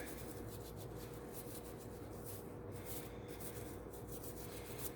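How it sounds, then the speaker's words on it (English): Rust being scrubbed off a Kawasaki Vulcan motorcycle's metal shift drum, a faint, steady rasping rub that repeats in quick strokes throughout, with no voices. "Then we're going to start removing all the rust from it."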